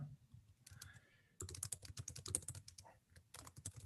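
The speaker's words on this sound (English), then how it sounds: "There is someone typing on the keyboard non-stop." Rapid, continuous typing on a computer keyboard picked up through a video call, with dense clicking keystrokes after a brief quieter start.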